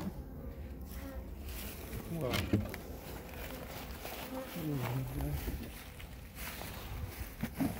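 Angry honey bees swarm around an opened hive, a dense buzzing drone that holds close and steady throughout, with people talking over it.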